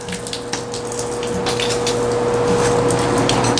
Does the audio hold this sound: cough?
no